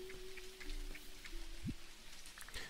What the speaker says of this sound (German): es regnet draußen.